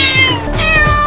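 A cartoon cat meows inside a cage in a Hindi comedy animation, a loud, close, drawn-out whining yowl filling the whole moment with no speech over it.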